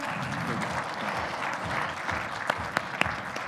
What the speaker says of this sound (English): Can we clap for him once again,